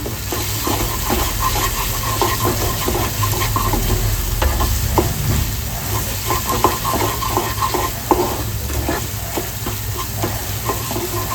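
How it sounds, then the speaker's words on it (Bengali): Spices fry and are stirred in hot oil for Bengali doi chicken, a dense, continuous sizzle with repeated scraping strokes of a spoon against the pan, close and loud throughout with no talk. "আবার আমি মশলাগুলোকে ভালো করে কষিয়ে নেব।"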